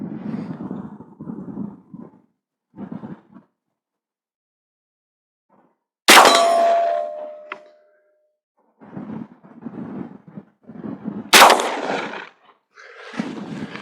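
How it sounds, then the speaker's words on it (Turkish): Two loud 20 gauge shotgun slug shots fired at a 50 metre outdoor range, each a sharp close blast with a ringing tail, several seconds apart, with people talking quietly before, between and after. "20 ile de iki atış yapacağım. 50 metreye."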